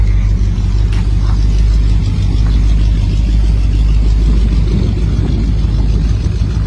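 A pro street muscle car engine runs loud and close with a heavy, rumbling low-end drone that holds steady for several seconds, pulsing slightly as it revs, with no one talking.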